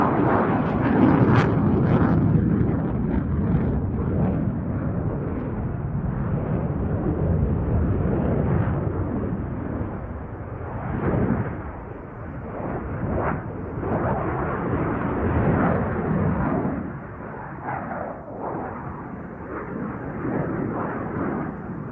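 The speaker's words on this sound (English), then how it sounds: "Into 3 spirals, repositioning temporarily on the A-axis, preparing the aircraft for a barrel roll." A Belgian F-16A MLU Fighting Falcon flying a solo display at RIAT 2022, a loud rumbling jet roar swelling and fading as it manoeuvres overhead, heard from the ground without speech.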